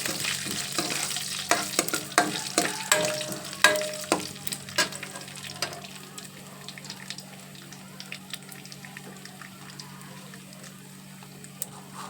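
Ajwain seeds fry in a hot pan while a spoon stirs them, giving sharp scraping clicks and soft crackle early on that thin into a quiet, steady sizzle.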